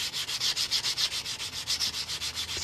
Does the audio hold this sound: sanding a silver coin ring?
yes